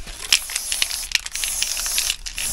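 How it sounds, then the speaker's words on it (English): Bursts of aerosol marking-paint spray hissing in short and longer blasts along a line, close by, with faint clicks and rustling between them. "Gives us a spray."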